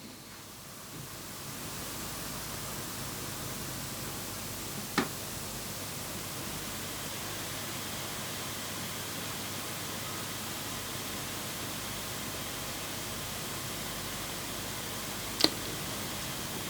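Steam Deck cooling fan spun up to its top speed, a steady, broad whooshing hiss that holds constant and close, with two faint clicks along the way and no talking.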